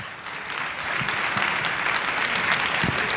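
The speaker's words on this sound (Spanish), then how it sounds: "Así que un fuerte aplauso a Pablo" Audience at a talk applauding a guest speaker, a steady patter of many hands clapping at moderate distance, swelling slightly after the first second and continuing evenly.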